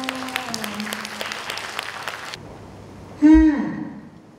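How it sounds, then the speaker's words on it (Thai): Applause from a seminar audience for new home economics graduates at Rajamangala University of Technology Phra Nakhon, heard as a dense wash of clapping for about two seconds before cutting off, followed by a short loud tonal sound. "ขอเสียงปรบมือหน่อยค่ะ"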